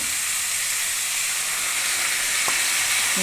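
Water poured into frying bean-seed vegetables in a pan sets off a loud, continuous steamy sizzle and hiss that stays steady and close throughout, with no voices.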